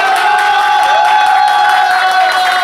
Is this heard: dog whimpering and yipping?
no